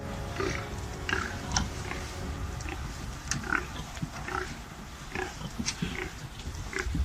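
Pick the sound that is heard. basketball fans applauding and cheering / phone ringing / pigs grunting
pigs grunting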